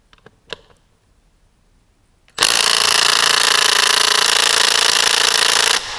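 A small Makita cordless impact wrench loosening tightly seized bolts: after a few faint clicks and near silence, a loud, continuous close-up hammering rattle starts abruptly and runs for several seconds before cutting off.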